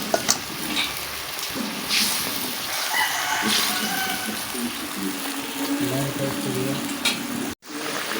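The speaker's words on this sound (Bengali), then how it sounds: "ঝোলটা দেখো কত সুন্দর করে ফুটে গেছে" Fish curry with tilapia and eggplant bubbling in a pot over a wood fire, a steady close sizzle and simmer, with brief stirring clatter and a faint rooster in the background.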